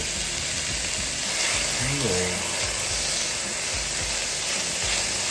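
Chopped red and green bell peppers fry in a pan, making a steady, close hiss of sizzling oil throughout, with a brief faint voice-like tone partway through.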